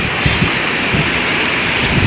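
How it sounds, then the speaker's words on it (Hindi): Sudden rain shower with strong wind in Agra after a hot, cloudy morning, heard as a steady dense hiss of falling rain and gusting wind, continuous and fairly loud throughout with no talk. "अचानक बूंदाबांदी यहाँ शुरू हो चुकी है, तेज हवा चल रही है"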